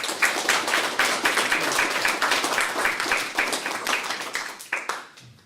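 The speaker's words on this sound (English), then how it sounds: "Can we just give Fran a round of applause, please?" An audience gives a sustained round of applause for Fran Ilich after a talk on alternate reality gaming as a support network; dense clapping holds steady and loud, then thins and fades away near the end.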